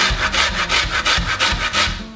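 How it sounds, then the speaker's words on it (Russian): Lemon rind being grated on a rather weak household grater, rough rasping strokes repeating in a steady back-and-forth rhythm, close and fairly loud with no talking. "И сейчас начинаем лимон. Кажется, у нас просто терка слабовата."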